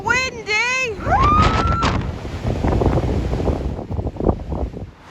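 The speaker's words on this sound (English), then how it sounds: "It's a bit windy." Loud, blustery wind buffets the microphone beside a canal in winter, roaring continuously over a few brief tonal sounds at the start.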